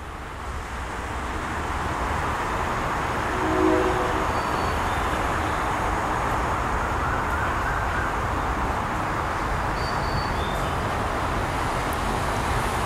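A train hauled by a GEA diesel locomotive rolls past the Yommarat railway halt with a continuous loud rumble and wheel noise that holds steady throughout, with no talk.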